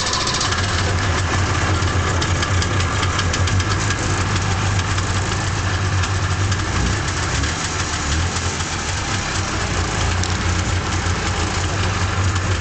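A dual-track 1987 Ski-Doo Alpine snowmobile engine runs at a steady idle after starting, a loud, continuous close-up rumble with fine knocking texture throughout and no talking.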